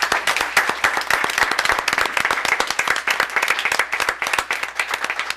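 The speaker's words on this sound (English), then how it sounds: "Give them a round of applause." Applause at a town board meeting, where Rotarians are welcomed forward, comes as a steady, loud patter of many hands clapping in a room, with no break throughout.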